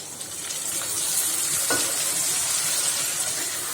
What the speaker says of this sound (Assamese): আৰু মই অলপ সময় লাৰি থাকিম এনেদৰে